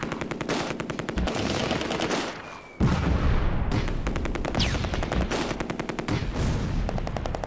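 Machine gun fire in the WWII strategy game Close Combat: A Bridge Too Far, loud rapid bursts of automatic shots with a brief pause before a heavy blast and more sustained firing.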